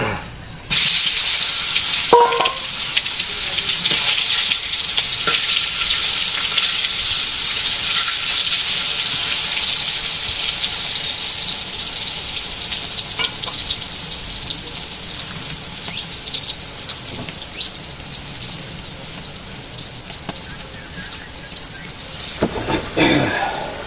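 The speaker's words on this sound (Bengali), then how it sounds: "বেগুন ভাজি প্রায় হওয়ার দিকে।" Eggplant sizzles while frying in a pan in a village kitchen, a loud continuous hiss that holds for the whole stretch with a few faint knocks and clatters.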